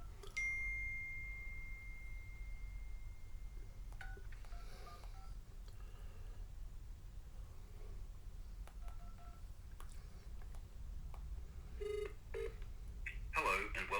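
A telephone call: a long dial tone, then a quick series of keypad beeps, then brief ringing chimes and automated voice-like sounds, faint over a low steady hum.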